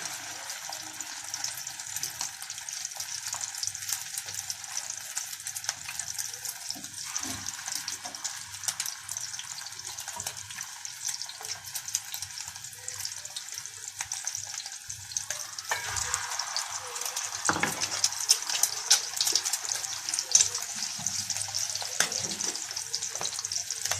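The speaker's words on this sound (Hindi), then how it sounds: "अंडे में डिप करके आपने टिक्कियों को फ्राई कर लेना है।" Egg-dipped tikki patties frying in a pan, a continuous fine hissing sizzle with a few soft scrapes, steady and fairly quiet, with no voices.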